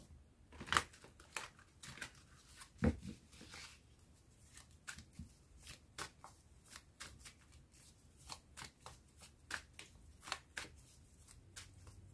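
Tarot cards shuffled by hand between readings, a quiet run of crisp riffling snaps and soft slides with irregular rhythm, close and alone without talk.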